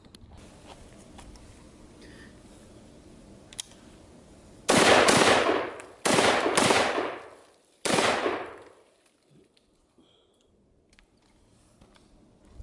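Gunfire from a 5.56 AR pistol at an outdoor shooting range, four loud, close blasts spaced a second or two apart, each trailing off in a long echo, then quiet.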